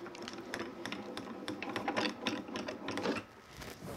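A Grand Calibur die-cutting machine cranks a card and cutting die through its rollers, giving a rapid, steady run of clicking mechanical ticks, close and moderately loud, then stopping.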